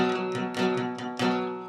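An electric guitar power chord strummed about three times, each ringing out thick and sustained before the next strike.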